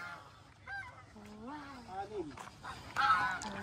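Geese honking on a provincial farm in Guimba, Nueva Ecija, a series of nasal, wavering calls from several birds at moderate distance, with a louder burst near the end and people talking in the background.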